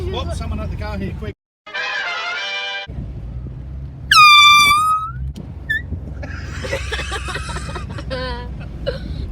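A loud air horn blasts from a passing car in a drive-by prank, a sharp honking burst that fades quickly, set amid engine noise, laughter and chatter from people inside the car.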